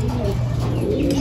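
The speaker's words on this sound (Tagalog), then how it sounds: "Ito yung mga kalapati natin." Pigeons cooing in a loft in Rosales, Pangasinan, a soft, continuous low warbling coo with faint chirps over a steady outdoor background.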